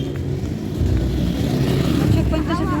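Busy street traffic thick with motorcycles at a checkpoint, a steady near engine rumble and hum running throughout with a brief passing whine near the end.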